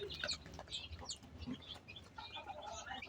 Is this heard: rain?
no